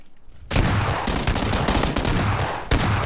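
Dense, loud bursts of rapid automatic gunfire from a shooter video game, nearly continuous for about three seconds with a short gap at the start, close and harsh, no talk.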